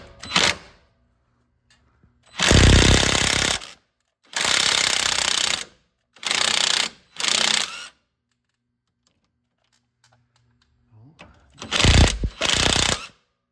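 A power tool spins a socket on a Toyota Yaris front strut nut in several loud bursts, whirring for about a second each with quiet pauses between.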